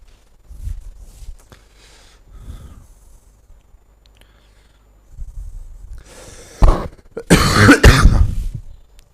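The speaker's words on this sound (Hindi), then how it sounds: "थोड़ा सा मौसम बदलने की वजह से खांसियां भी आ रही हैं।" A man coughs in a quiet indoor room during a math lesson, first a few soft throat sounds, then a cluster of loud, harsh, close-up coughs near the end.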